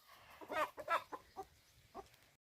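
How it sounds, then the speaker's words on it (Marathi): A free-range country hen clucks nearby in a series of short, separate clucks, irregularly spaced and fairly quiet, with a sharp knock at the very end. "तिच्या शेजारी एक कोंबडी आहे बघा, जाळीत अडकली ती आणि बाहेर निघली आता."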